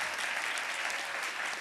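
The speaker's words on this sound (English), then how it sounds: "that deserves an applause" An audience at a ceremonial congressional swearing-in ceremony applauds, a dense, steady wash of clapping from many hands.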